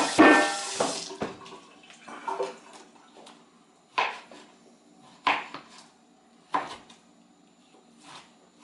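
Hands rinsed under a running kitchen tap while making soup, a short loud burst of splashing water followed by scattered clunks and knocks of dishes and utensils.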